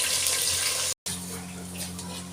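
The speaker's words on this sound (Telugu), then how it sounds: "ఆయిల్ వేసుకొని ఆనియన్స్ డీప్ ఫ్రై చేసుకోవాలి ఫర్ బిర్యానీకి" Onions deep frying in oil for biryani, a steady close bubbling hiss with a brief dropout midway and a low hum beneath.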